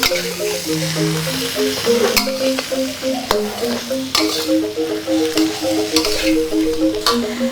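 Rice is stirred in a pot with spring onion, sugar, salt and mushroom seasoning for Sundanese nasi liwet, with a low frying sizzle and repeated scraping and clinking strokes in a steady rhythm close by.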